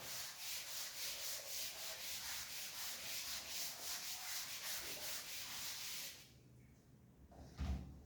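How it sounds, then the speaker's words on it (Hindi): A classroom board being wiped with an eraser during a Class 10 maths lesson, a steady rhythmic rubbing scrape for about six seconds that stops abruptly, followed by a brief soft knock. "फिर मैं इसको रब करता हूँ और फिर आगे बढ़ते हैं"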